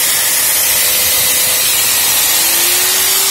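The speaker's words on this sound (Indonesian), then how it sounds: "Oke, mesin gerinda nyala ya guys." An electric angle grinder powered from a portable campervan power box runs with a loud, steady high hiss and whine, a faint rising tone creeping in as it struggles.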